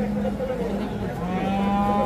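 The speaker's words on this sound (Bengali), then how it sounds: "এখানে একটা শাহিওয়াল লাল ষাঁড় আছে," A red Sahiwal bull lows loudly and close, a long deep moo sustained across the whole clip.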